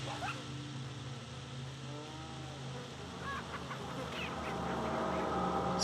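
A dog barks a few times in Resident Evil 4 on the Wii, the sharp calls rising over a steady hum of game ambience and faint background sounds.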